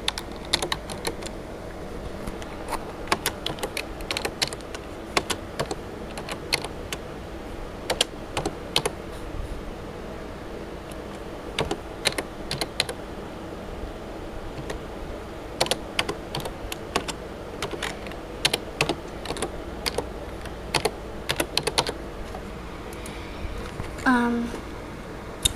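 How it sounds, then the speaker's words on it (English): One-handed typing on a keyboard gives sparse, uneven key clicks scattered through a quiet room, with occasional pauses and a person speaking briefly. "It's kind of hard to type with one hand."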